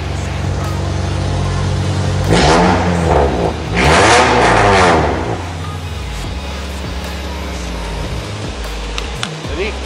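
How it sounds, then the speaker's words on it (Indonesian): A fourth-generation Honda City with a loud full-system aftermarket exhaust revs in two or three close bursts that rise and fall, then settles back to a rumbling idle. "Terus karena knalpotnya udah ganti, kita dengerin dulu kali knalpotnya ya."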